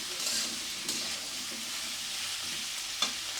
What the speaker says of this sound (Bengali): একটু পেঁয়াজ কাঁচামরিচ ভাজা হতে হতে